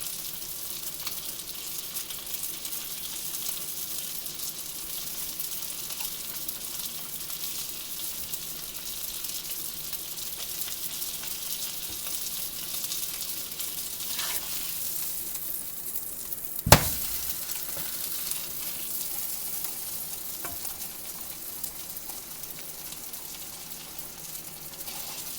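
Rainbow trout fillet frying in butter in a pan, a steady close sizzle running throughout with a single sharp clink partway through.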